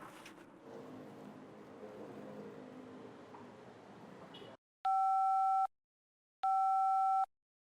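A telephone busy signal sounds after a stretch of quiet room noise: two loud, steady, evenly spaced tones, each lasting under a second, clear and close.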